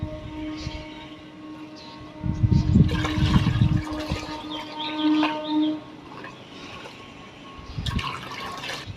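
Water swirled and mixed with DAP fertilizer in a container: a loud burst of churning, sloshing liquid for about a second and a half, then quieter splashes and a brief final slosh.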